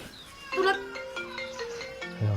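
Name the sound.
mobile phone ringing with an incoming call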